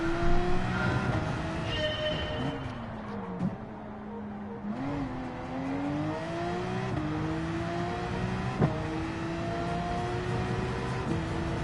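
Porsche 911 engine in the Gran Turismo 7 racing game, revving up through repeated gear changes with rising and falling pitch, steady and prominent, a few brief dips between shifts.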